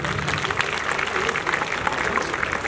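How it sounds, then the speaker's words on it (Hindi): Children clap together at a government school Independence Day program, a dense, steady burst of applause from a crowd, fairly close and loud. "बच्चे एक बार ताली बजाएं सभी मेहमानों के नाम की।"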